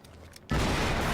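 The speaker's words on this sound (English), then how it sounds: "We just heard an explosion near the harvesting perimeter." A sudden loud boom from an in-game explosion in Quantum Break hits after a quiet half-second and leaves a dense roaring rumble that carries on to the end.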